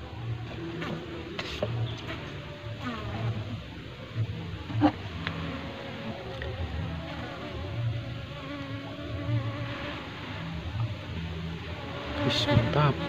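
Honey bees swarm around a growing beehive, a steady, dense buzz hanging low and continuous throughout, with occasional clicks and brief louder passes close by.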